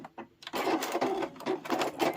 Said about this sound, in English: Don't forget to backstitch when you get to the end.